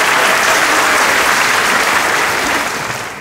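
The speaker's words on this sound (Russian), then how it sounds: "Давайте похлопаем Ержану." An audience at an improv comedy show in Almaty applauds, a dense steady wash of clapping from a full room that holds loud for about three seconds, then begins to fade.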